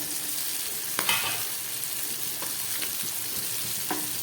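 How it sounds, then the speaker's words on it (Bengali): Pomfret fish coated in spices fries over low heat in a covered pan, giving a steady close hiss with a few faint clicks and pops, no voices. "গ্যাসটা একদম কমেই আছে, আর একটু ভাজা হোক"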